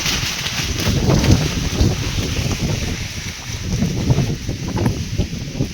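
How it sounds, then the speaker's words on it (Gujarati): Strong wind roars steadily across the microphone as rain approaches, a loud continuous rumbling buffet with gusts swelling and easing throughout. "પવન પણ જોરદારથી ઉડવા માંડ્યો છે"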